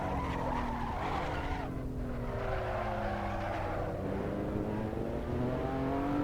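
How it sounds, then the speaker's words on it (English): A race car in a sim racing game drifts wide through turn 2 off the throttle. Its tires squeal and skid continuously over a loud engine drone, with pitch-sliding engine notes throughout. "The car's drifting wide, off of the throttle, letting the front tires catch up to what the car's doing"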